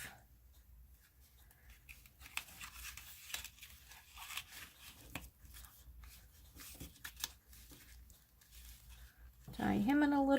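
Scissors snip a chocolate candy wrapper during gift crafting, with soft paper rustles and faint clicks at close range. Brief cuts are spread through the passage, and a louder tonal burst comes near the end.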